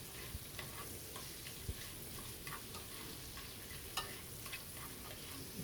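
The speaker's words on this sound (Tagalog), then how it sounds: "Halo-halo lang hanggang lumabas ang aroma ng sibuyas at bawang." Onion and garlic fry in a pan with a soft, steady sizzle while a spoon stirs them, giving occasional light clicks and scrapes at close range.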